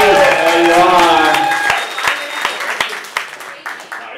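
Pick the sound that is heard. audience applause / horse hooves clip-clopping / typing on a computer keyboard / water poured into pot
audience applause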